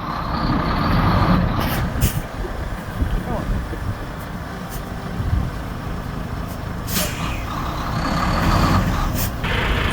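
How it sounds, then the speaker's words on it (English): A semi-truck RV sits stuck deep in mud while its rear tire spins, giving a loud, continuous low engine roar and churning rumble, with occasional sharp bursts and voices talking over it. "the back tire is spinning like crazy"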